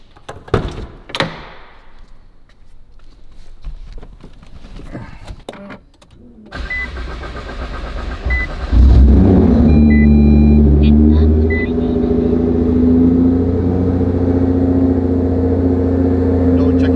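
A car engine cranks and fires, then settles into a loud, steady idle close by. The start follows some clunks and clicks at the car, and no one speaks.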